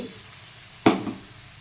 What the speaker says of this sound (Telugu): ఇవి ఆయిల్లో బాగా వేగిపోవాలండి